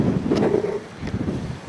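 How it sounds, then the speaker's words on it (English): Strong outdoor wind buffets a microphone, a low rumbling roar that surges and dips in loud gusts with no voices. "it is really windy outside."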